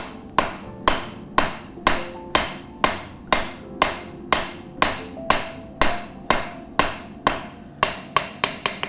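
A hammer forging and distal tapering the tang of a kukri blade, with about twenty sharp, ringing strikes at a steady, even rhythm, close and loud, speeding into quicker blows at the end.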